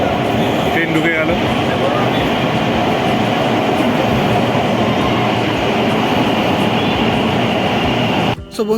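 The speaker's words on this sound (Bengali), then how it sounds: "ট্রেন ঢুকে গেল।" A metro train pulls into the crowded underwater metro station in Kolkata, a steady loud rumble of wheels and carriages that fills nearly the whole clip before cutting off near the end, with faint crowd voices mixed in.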